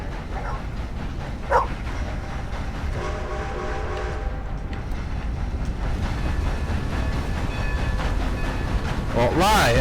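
A train in Red Dead Redemption 2 rumbles steadily through the scene with rolling low-end noise, a brief bright hit near the start and a rising horn-like wail at the end, while a voice talks over it.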